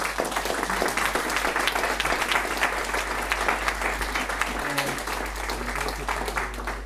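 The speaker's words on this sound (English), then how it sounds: "Please give one more round of applause." Sustained audience applause fills a hall at a Prague public forum on Cuba: a dense, steady wash of many hands clapping at even loudness from start to finish.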